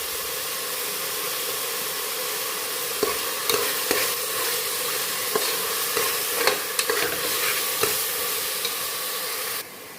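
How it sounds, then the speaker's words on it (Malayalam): Garlic-ginger paste for a beef curry fries in a pan with a loud, continuous sizzling hiss, marked by occasional sharp pops and spoon clicks, close up, cutting off abruptly at the end. "ഈ സമയം നമുക്കിനി വെളുത്തുള്ളി ഇഞ്ചി പേസ്റ്റും കൂടെ ഇതിലേക്ക് ഇട്ട് കൊടുക്കാം"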